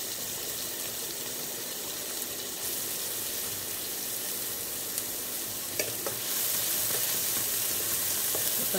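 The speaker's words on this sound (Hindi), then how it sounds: "तो मेरा ये प्याज भूनता है" Onion frying in hot mustard oil with cumin seeds and asafoetida, a steady dense sizzle with occasional stirring scrapes and clinks, close and constant, with no talking.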